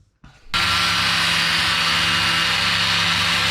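A grinder notches a piece out of a clutch pedal stop on a Nissan Silvia pedal box, spinning up after a brief click into a loud, sustained high whine and grinding roar close by.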